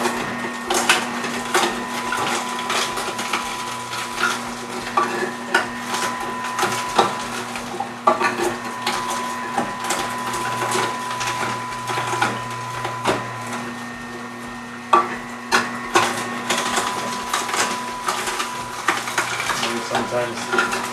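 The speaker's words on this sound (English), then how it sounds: "The others I do need to maintain a bit of pressure for the auger to pull those in." Omega NC800 auger juicer crushing produce, giving a steady motor hum with irregular cracking, crunching and knocking as pieces are pulled in, loud and close.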